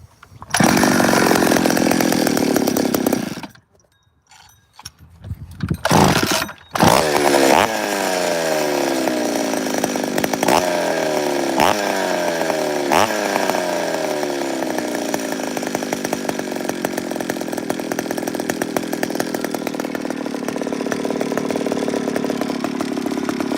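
Super 1010 chainsaw engine running loud and close, a brief sputtering dip near the start, then a steady high whine with repeated revving swells that hold to the end, no voices.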